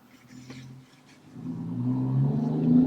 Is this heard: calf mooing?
no